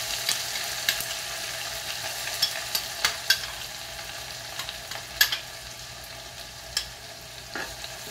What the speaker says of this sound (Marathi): आता मी या तेल तापल्यात त्यात मसाला घालणार आहे